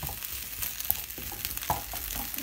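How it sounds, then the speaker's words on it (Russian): Asparagus frying in a large pan, crackling and sizzling steadily at close range with scattered sharper pops and stirring clicks, quiet overall with no talking. "на большой сковородочке, обжариваем по 1-2 минутки со всех сторон"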